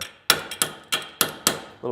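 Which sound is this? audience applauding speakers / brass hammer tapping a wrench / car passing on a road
brass hammer tapping a wrench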